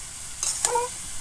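Potatoes and eggplant stirred into a spiced masala in a hot pan produce a soft background sizzle and one short scrape of the spoon partway through.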